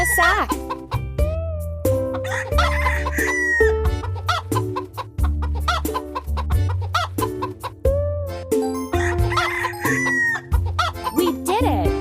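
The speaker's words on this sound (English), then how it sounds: "Our hens are hungry. Feed them with the grain from the sack." Cartoon hens cluck and a rooster crows in a farm animals kids' video game, with busy repeated animal calls over bouncy game music and sound effects.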